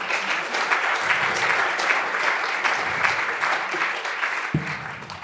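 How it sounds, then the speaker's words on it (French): Sustained applause from an audience at a French Senate round-table event, dense clapping that holds steady and then begins to thin out toward the end. "on peut encore les applaudir"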